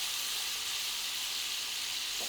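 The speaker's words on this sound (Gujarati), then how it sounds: "ખાંડ અને લીંબુનો રસ વઘારમાં સરસ મિક્સ કરી લઈશું." Steady, close sizzle of hot tempering oil as sugar and lemon juice are stirred in for khaman, a dense even hiss with no voices.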